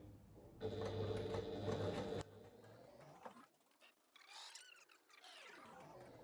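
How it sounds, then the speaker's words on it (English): A sewing machine runs in a steady whirring burst for about a second and a half while stitching a seam line on a pouch. Quieter handling noises and rustling follow. "I'm just going to sew vertically the whole way down"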